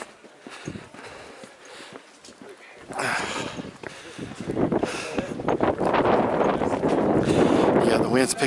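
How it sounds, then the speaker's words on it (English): Wind picks up at the Clingmans Dome summit, gusts buffeting the microphone and growing louder over the second half, with a person talking through it. "yeah, the wind's picking up now."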